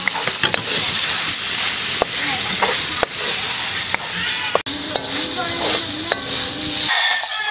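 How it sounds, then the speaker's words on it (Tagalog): Hotdogs sizzle and fry in a hot pan while a spoon stirs and scrapes them, with steady loud crackling, brief knocks against the pan and a voice talking over the cooking. "At saka ilagay na po natin yung hotdog. Yan, haluluin po natin mga ka-team."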